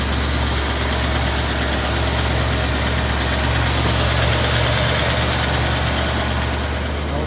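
A Ford F100 pickup truck engine idles steadily and close by, a continuous low rumble with a constant hum and vibration throughout and no talking.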